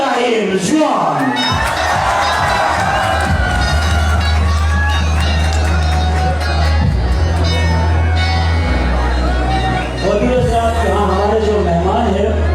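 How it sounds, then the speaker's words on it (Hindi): Crowd at a live Gilgit-Baltistan cultural music program cheers, whoops and shouts loudly over a steady low drone and a voice, a lively sustained roar lasting the whole stretch. "आपकी बहुत सारी तालियों में"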